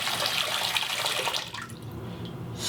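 Water runs steadily from a faucet into a cup holding a little soap, a close splashing stream that thins and tapers off toward the end.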